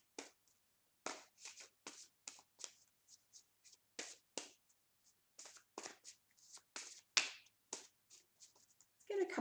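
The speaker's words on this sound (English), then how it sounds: "Let's get a couple more shuffles." Tarot cards are shuffled in a series of quick, close riffling bursts, each a short crisp rush of card edges separated by brief pauses, recorded up close in a quiet room.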